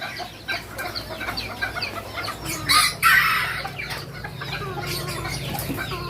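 Old English Game bantam chickens cluck and chatter nearby in a pen, with a brief louder crowing burst and flapping in the middle and soft rustling throughout.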